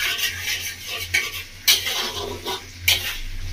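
Mixed vegetables for a vegetarian shukto being stir-fried in a pan, a continuous close hiss broken by repeated scrapes and clatters of a spoon against metal, with a low hum underneath.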